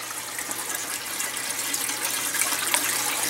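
Water in a backyard aquaponics system pours and gushes steadily through the piping and grow beds, a close, continuous splashing rush that swells slightly toward the end.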